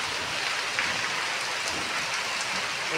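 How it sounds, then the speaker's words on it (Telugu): Continuous rainfall during a spring shower, a uniform broadband patter that holds steady and fairly loud throughout, with no voices. "ఇప్పుడు వాన అయితే వస్తుంది, చల్లగా వస్తుంది"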